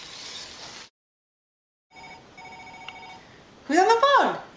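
A telephone rings in a home kitchen during cooking, with a steady electronic ring pattern after a brief pause, followed by a loud voice.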